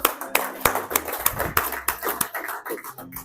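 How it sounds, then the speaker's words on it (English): Scattered clapping from a room of basketball officials, a handful of distinct sharp claps rather than full applause, with talk mixed in. "give a clap, give a clap."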